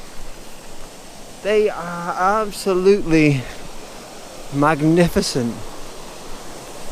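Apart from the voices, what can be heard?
waterfall flowing over rocks at Lochgoilhead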